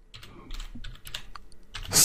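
Someone types a file name on a computer keyboard while creating a CSS file: a quick run of close, crisp key clicks in irregular bursts, ending in a louder keystroke, with no talking.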